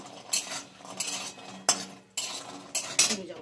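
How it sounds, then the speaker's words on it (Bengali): Lentil dumplings (bori) being stirred and fried in a wok: a metal spatula clinks and scrapes against the pan in several quick bursts, with a faint background hiss and no talking. "আমি একটু নেড়ে চেড়ে আর একটু ভেজে নেব"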